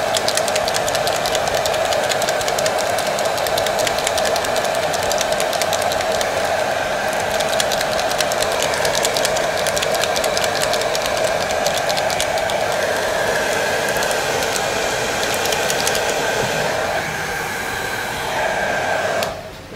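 A hair dryer drying paint on a scale model of an Egyptian BMP-1, a steady close whirring blow with a constant hum that runs unbroken for twenty seconds before cutting off at the end.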